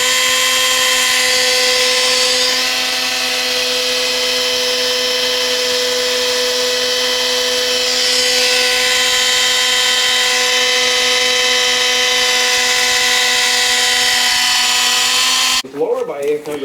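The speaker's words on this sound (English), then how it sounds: "None of these drills can spin fast enough to prime like they are" Power drill spinning to prime the oil pump on a 468 big-block Chevy in a 1968 Camaro, a steady loud whine held for about fifteen seconds before cutting off abruptly.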